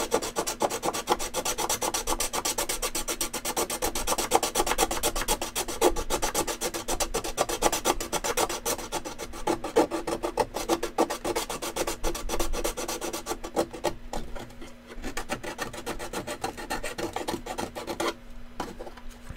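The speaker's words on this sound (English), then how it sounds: "It's just going to be easier to do with the hand file, or the sanding." A hand file rasps against a toy foam blaster part in fast, steady back-and-forth strokes, loud and close, continuing without pause for the whole stretch with no talking.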